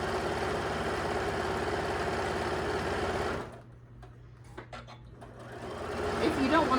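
Sewing machine runs a fast seam on a pillowcase, a steady, loud mechanical whir that stops abruptly partway through, leaving quieter handling sounds before the motor starts to rise again.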